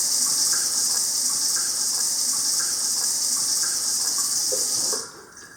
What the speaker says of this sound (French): vous ouvrez l'eau froide pendant 5 minutes